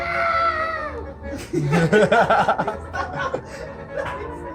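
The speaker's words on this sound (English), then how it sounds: "Oh, I hear a few. Yeah, people screaming." People scream and shout outdoors during a street protest, with shrill rising and falling cries close by and overlapping for a few seconds.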